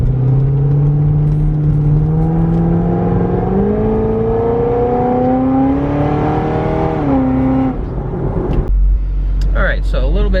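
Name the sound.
700HP supercharged Corvette accelerating on highway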